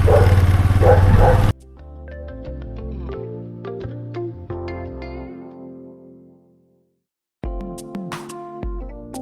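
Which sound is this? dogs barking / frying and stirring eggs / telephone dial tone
dogs barking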